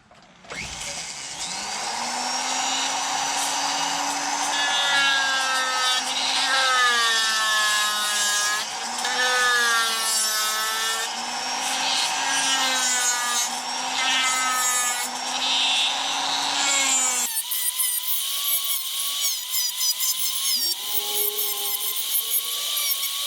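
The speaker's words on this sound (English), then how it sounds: "I'm going to be using my Fordham today with this big roughing ball to cut it out, to get it roughed out." A Foredom rotary tool fitted with a roughing ball carves a wood trout, its motor whining at a steady high pitch that wavers as the bit bites the wood, loud and close, shifting tone near the end.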